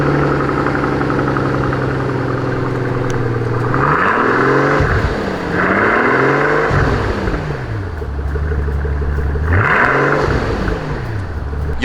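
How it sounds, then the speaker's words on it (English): A Mercedes S65 AMG twin-turbo V12 idles after a cold start with a smooth, steady, fairly loud hum, and its pitch swells and falls in several gentle rev blips. "This is gonna be the last time you hear this iconic twin turbo V12 on this channel."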